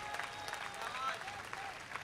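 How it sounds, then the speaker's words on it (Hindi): An audience at a Hindi comic poetry gathering applauds with a steady, fairly faint patter of many hands, and a voice speaks briefly over it. "आपकी तालियां कमजोर है मेरे भाई।"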